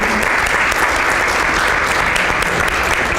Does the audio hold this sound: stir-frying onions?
no